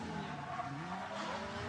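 A Nissan R32 drift car at a Teesside drift championship scrubs through a corner on a dab of the handbrake, its tyres hissing and skidding over a loud engine drone.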